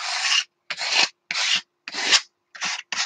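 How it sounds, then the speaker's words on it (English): Excess paint is scraped off a painted journal page in six loud, close, rasping strokes, each lasting about half a second and separated by short silent gaps. "I'm scraping the excess off now"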